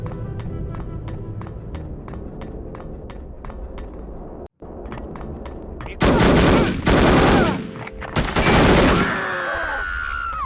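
Gunfire in the shooter game No One Lives Forever, a rapid regular string of sharp shots, then two loud sustained bursts of heavier firing near the end.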